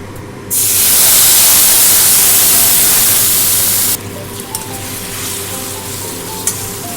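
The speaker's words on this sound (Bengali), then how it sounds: "ফোড়নে দেবো জিরে, কয়েকটা দারচিনি, লবঙ্গ, এলাচ আর একটা তেজপাতা। এবারে মশলার পেস্টটা আমি দিয়ে দেবো।" Spice paste hits hot oil already tempered with cumin, cinnamon, cloves, cardamom and a bay leaf, bursting into a loud, close, roaring sizzle that holds for a few seconds before settling to a quieter crackle with small pops.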